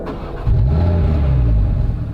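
An Audi RS3 ABT push-start engine cranks and fires, settling into a loud, deep, close idle rumble.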